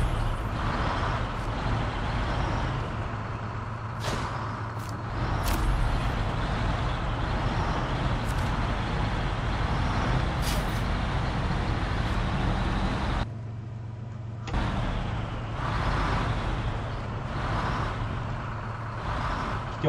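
Heavy trucks in the video game SnowRunner rumble with a steady low engine drone, with brief hissing bursts like air brakes and a short lull partway through.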